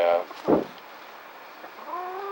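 Chickens cluck and squawk nearby in brief bursts, with a person's voice at the start and end.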